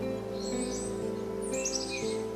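Pet pigeons make soft chirps and calls over a steady mechanical hum, with a few brief high-pitched tweets scattered through the short stretch.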